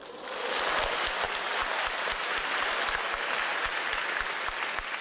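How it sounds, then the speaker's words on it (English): Spontaneous applause from an audience at a machine learning conference in China, a steady wash of many hands clapping that rises quickly and holds at an even, moderate level throughout. "It's not often, actually, at academic conferences that you do hear spontaneous applause."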